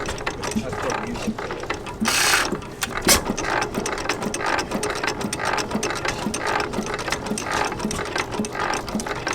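A 6 hp Armstrong Cam Wobbler hit-and-miss engine runs at a show, its gears clicking and clattering in a fast steady rhythm, loud and close, with a brief hiss and a sharp knock partway through.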